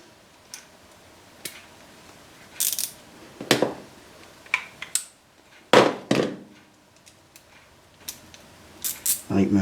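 A ratchet with a 10mm quarter drive adapter works bolts on a Suzuki Hayabusa motorcycle in a garage, giving scattered close clicks and metallic clinks in short uneven bursts between quiet gaps.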